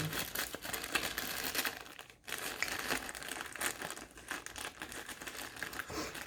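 Plastic film is peeled off QCY T5 wireless earbuds in close, continuous crinkling and crackling, with a brief pause midway before the rustling resumes.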